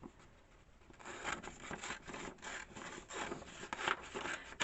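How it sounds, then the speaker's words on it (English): Scissors snip through paper pieces for a Rolodex altered book junk journal calendar, a close, steady run of rough cutting and rubbing strokes with no talk. "let's just go ahead and cut this out"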